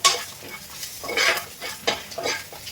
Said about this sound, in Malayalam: then I'm gonna add chili. അത് നന്നായിട്ട് വഴറ്റാം